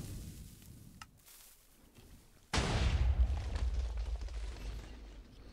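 A TNT cannon built from Redstone in Minecraft goes off when its button is pressed: one sudden, loud blast that rolls on as a heavy, sustained rumble after a quiet lead-in.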